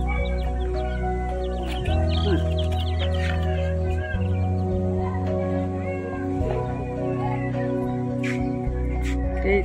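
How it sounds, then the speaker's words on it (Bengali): Quail on a rooftop garden give repeated chirping and clucking calls, close and fairly loud, layered over a steady low drone throughout. "কোয়েল পাখি"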